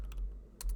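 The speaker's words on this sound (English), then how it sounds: "My typing is off today." Quick keystrokes on a computer keyboard while coding a Java lesson, two short bursts of close, crisp clicking with a brief pause between them.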